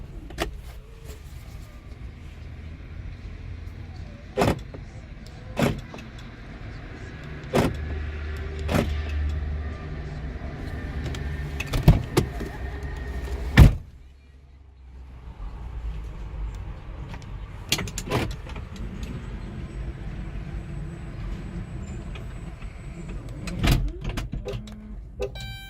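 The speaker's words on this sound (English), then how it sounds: "Remote start work." A 2011 Chrysler Town & Country minivan running after a remote start, with a steady low engine drone, scattered clicks and clunks around it, a brief dip midway and then the idle continuing.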